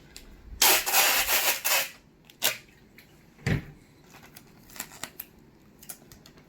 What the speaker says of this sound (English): we're going to use our tape, and basically we're going to laminate them